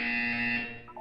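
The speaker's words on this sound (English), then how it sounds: "You will hear a buzzer." A flat electronic buzzer tone sounds in Portal 2, one steady held note lasting most of a second before cutting off, alone and fairly clear.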